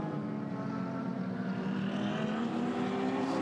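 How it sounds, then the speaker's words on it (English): The Hackett Mercedes race car roars past on track at Sydney Motorsport Park during an endurance race, a loud, sustained engine note climbing steadily in pitch as it accelerates, without speech. "Here's the Hackett Mercedes coming through."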